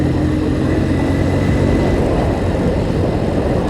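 Steady, loud engine drone from a vehicle held at high RPM while engine braking, a continuous broadband roar with no letup and no voices.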